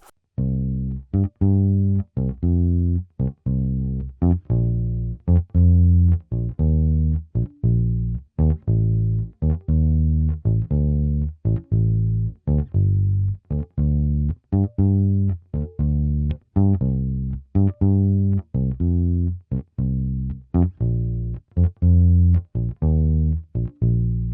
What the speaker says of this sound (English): So we end up slowly with a bass line that sounds like this.